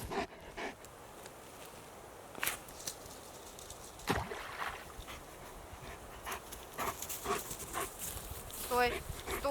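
A dog pants and whimpers close by outdoors on a riverbank in a forest, with a few sharp sounds and people talking over it.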